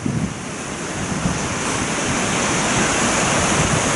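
A swollen river rushes in a steady, loud, broadband roar, constant torrent noise filling the whole stretch with no voices.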